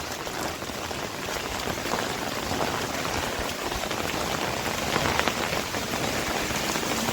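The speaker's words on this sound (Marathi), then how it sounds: "बघूया भरपूरच मुसळधार पाऊस पडतो आपण बघतच आहात" Heavy monsoon rain pours down in a dense, continuous roar of drops hitting surfaces, loud and unbroken throughout, with no one talking.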